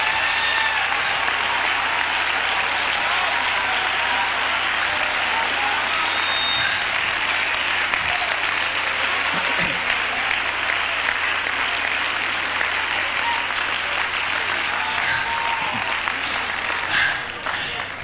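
A church congregation at a revival meeting breaks into sustained, dense applause that holds at full level for many seconds as a broad wash of clapping, easing slightly only at the very end.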